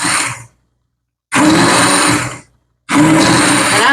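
A blender purees diced tomatoes into salsa in three loud bursts separated by short silences, each pulse a harsh steady whir with churning, close and alone.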